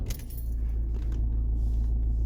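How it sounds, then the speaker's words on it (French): Keys jangle briefly as a car is started during an iCarsoft CR Pro+ diagnostic tool test, then a low, steady engine idle rumble settles in close by. "Hop, je vais démarrer la voiture."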